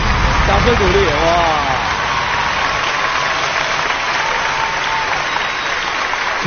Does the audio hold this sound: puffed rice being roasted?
no